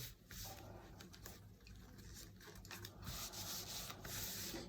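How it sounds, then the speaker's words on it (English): Soft, continuous rubbing and brushing of bag lining fabric under a hand, close and quiet, with repeated light swishing strokes and no talking. "So I'm just going to smoothen it out."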